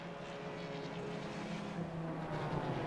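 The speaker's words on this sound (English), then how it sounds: "You can clearly hear the Porsche note when it passes in front of the camera." Porsche safety car engine at Zolder circuit during an MX5 race sounds as a continuous loud motor drone with a rising tonal note, held steady for the whole stretch without speech.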